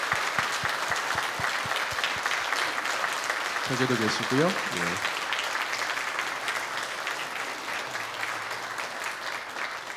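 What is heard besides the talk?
church congregation applauding to welcome newcomers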